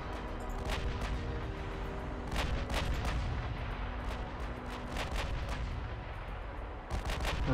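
Warship guns firing high-explosive shells in a naval video game, several sharp booming shots in irregular succession over a rumbling low background, with no talk.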